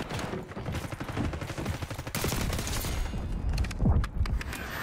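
Automatic gunfire in the video game Black Ops 6 with an AS VAL class, dense overlapping rapid shots and mechanical clatter, loud and continuous throughout.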